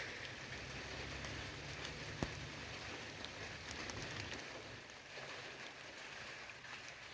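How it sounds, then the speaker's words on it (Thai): Steady afternoon rain falling on a garden, a faint continuous hiss of drops with an occasional sharper tap, heard alone without speech. "อากาศตอนบ่ายสองนะครับฝนตก"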